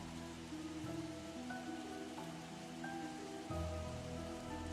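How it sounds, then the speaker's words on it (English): Steady rain ambience plays as a tabletop ambient sound effect during a Pathfinder 2e game session, a continuous even hiss of rainfall with soft droplet textures and a low rumble throughout. "Get some rain going."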